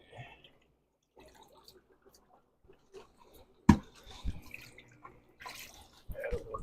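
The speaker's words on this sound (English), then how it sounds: "Add a little bit more water too." Water poured into a compost tea bucket fitted with an air bubbler, in a few soft splashing and trickling bursts between quieter moments.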